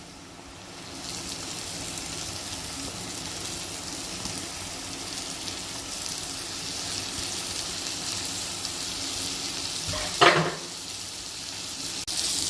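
Crumbled fig mixture for vegetarian sura puttu sizzling in a pan, a steady close hiss of frying that runs unbroken, with one brief clatter near the end.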